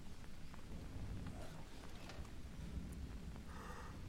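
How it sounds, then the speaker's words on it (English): Steady rain from a thunderstorm in a jungle survival game, a continuous broadband wash with low rumbling underneath, holding at an even level throughout with no voices. "A little bit of a storm going on."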